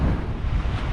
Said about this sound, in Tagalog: Yan grabing lalaki ng alon banda rito.